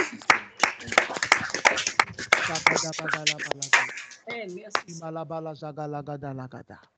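A Sunday church congregation claps in a quick, uneven burst of hand strikes, with voices singing and talking over and after the clapping.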